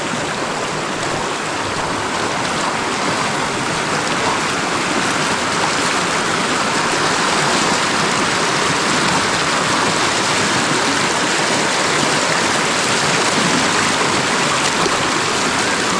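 Water rushes over rocks in a stream's rapids, a steady, dense roar that stays loud and unbroken throughout.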